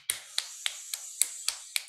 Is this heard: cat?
no